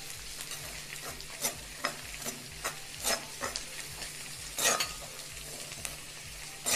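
Grated coconut, tamarind and coriander powder sizzle in a pan for a brinjal masala, with steady frying hiss broken by regular scraping stirs of a spoon, close and loud.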